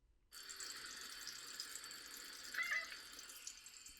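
Water runs steadily from a sink tap while a cat drinks, a soft continuous splashing stream starting abruptly after a brief silence, with a small swell near the middle and no talking.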